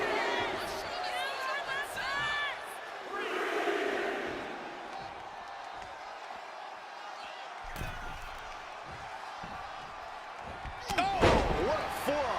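A heavy slam lands in a WWE 2K25 wrestling match as a forearm strike hits, with crowd noise and cheering underneath and a commentator talking around the impacts.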